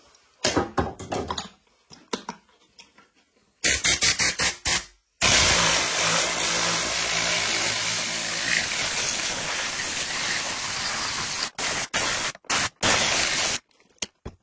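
A tornado-style air cleaning gun sprays purple degreaser onto a motorbike, giving a loud, steady hiss of compressed air for several seconds, set between shorter bursts of spraying before and after.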